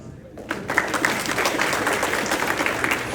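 An audience at an IEEE semiconductor summit at Texas A&M breaks into applause after a brief quiet start, keeping up dense, lively clapping throughout.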